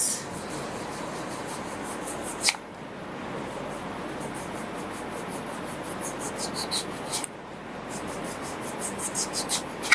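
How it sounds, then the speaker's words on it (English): Raw potatoes are cut into thin slices for potato fritters. Quick, repetitive scraping and slicing strokes run close and continuous, with two brief pauses and sharper rhythmic cuts near the end. "we'll cut our potatoes into thin slices"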